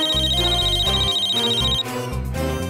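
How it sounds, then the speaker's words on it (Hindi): A telephone ringtone plays a repeating electronic melody close and clear, with a high steady tone over it for the first part. "मुझे भी फोन आया।"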